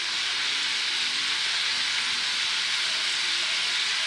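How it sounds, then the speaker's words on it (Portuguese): Calabresa sausage frying in a pan gives a steady, dense sizzle that holds evenly throughout, close and fairly loud, with no voices over it. "fritar a calabresa"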